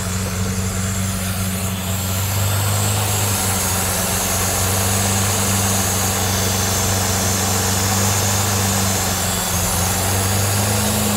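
Lamborghini LM002 engine idling after restoration, a loud, steady, close rumble with a deep low hum and broadband hiss throughout, running continuously without revving.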